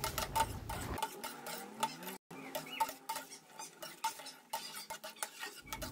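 Caramel lumpia being stirred as it fries in a pan, quiet irregular scraping and clinking of a utensil against the pan over a faint sizzle.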